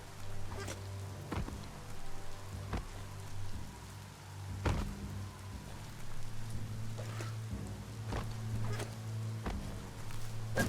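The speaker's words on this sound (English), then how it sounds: "when it rains, it gets wet." Rain falls steadily in Biomutant, a soft wash of drops punctuated by sharp periodic clicks and impacts over a low steady hum, with no talking.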